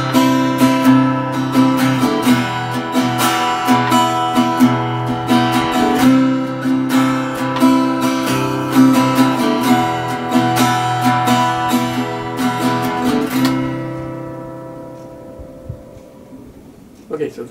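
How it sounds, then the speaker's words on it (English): An acoustic guitar plays a rhythmic strumming pattern of repeated up and down chord strokes that keep a steady beat, close and loud, before the final chord rings out and fades. "So the song has a particular strumming pattern, which sounds like this."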